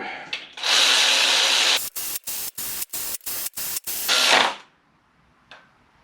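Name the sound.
ratchet tightening Subaru Forester clutch bolts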